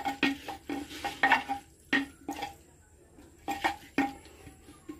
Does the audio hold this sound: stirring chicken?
yes